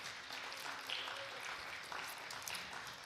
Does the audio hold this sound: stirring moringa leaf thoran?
no